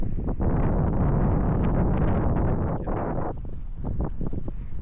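Strong wind roars steadily across the microphone, a loud continuous rushing buffet with no voices.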